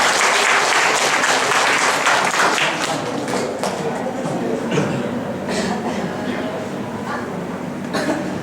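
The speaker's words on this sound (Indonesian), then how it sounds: "Kita beri tepuk tangan yang meriah kepada Pak Amdani." Loud, sustained audience applause rolls through a Jakarta meetup hall for Pak Amdani: dense clapping from a large crowd that holds steady and eases off only slightly toward the end.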